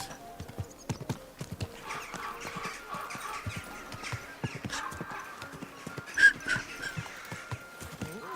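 Rhythmic hoof clip-clops from a horse in the video game Kingdom Come: Deliverance, steady and fairly close, with a brief louder knock near the end and light background noise.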